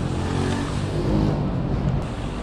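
A motorcycle engine running loud and close on a road ride in Malaysia, a continuous rough low drone that swells slightly as it revs, with no speech.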